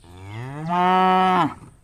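A cartoon buffalo gives a single long, loud moo that rises in pitch, holds steady and then drops off abruptly, with no other sound around it.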